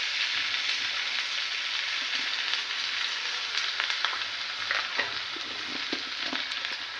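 Hot oil tempering sizzles and crackles steadily for pav bhaji, with scattered sharper pops rising toward the end, close by and without speech.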